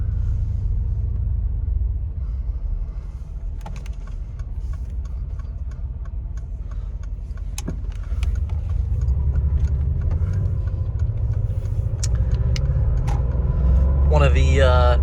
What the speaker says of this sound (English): All right, put it in gear, and off we go.